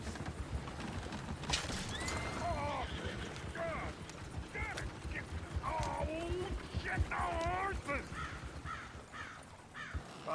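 Horses in the video game Red Dead Redemption II neigh and whinny repeatedly over clip-clopping hooves, with crows cawing and someone talking in the background at moderate distance.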